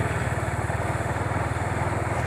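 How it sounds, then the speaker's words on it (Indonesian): A Honda motorcycle being ridden gives a close, steady, rhythmic low engine throb with wind rush, heard alone without talk. "Soalnya kok anginnya kalau lari di Honda mah kuat Ben."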